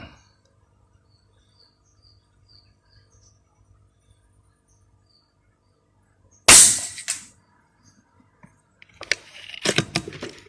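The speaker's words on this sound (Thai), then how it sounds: "เดี๋ยวยิงเป้าที่อยู่ข้างบนก่อนนะครับ" Gunshots fired at a target on a shooting range, with one sharp loud report followed by a quieter burst of several shots near the end, against otherwise quiet outdoor background.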